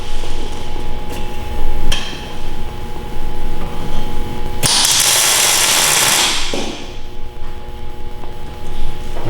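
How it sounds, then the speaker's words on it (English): A BC501/BC502 linkage being tack-welded in place: a loud, steady buzzing hiss of welding bursts in for about two seconds over a noisy workshop hum, with sharp clicks and clanks before and after. "And that's when we weld it."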